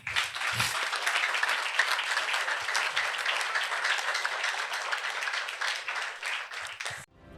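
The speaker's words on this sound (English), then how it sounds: "Let's clap for him." An audience applauds loudly and steadily for about seven seconds, a dense wash of many hands clapping at a Christian church service, then cuts off abruptly at the end.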